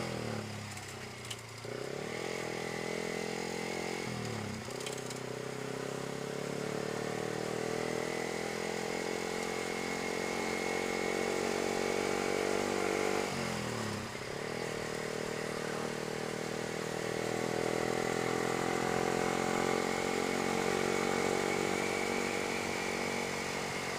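A motorcycle ridden on the way home on a hot day, its engine droning steadily and close for the whole stretch, with a few brief drops and surges as the throttle shifts.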